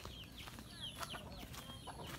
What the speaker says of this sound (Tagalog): Yung tumahol na yon, manok yun, hindi aso yun, ha.